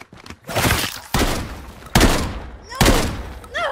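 Shotgun blasts in the zombie game No More Room in Hell 2, four heavy booming shots spaced roughly a second apart, each with a sharp crack and rolling tail, loud and near with a brief voice at the start.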